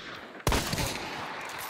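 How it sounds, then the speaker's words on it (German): A gunshot cracks out loud and sudden in the video game Hunt: Showdown, then rolls away in a long booming echo that fills the rest of the moment. "Kam gerade ein Schuss."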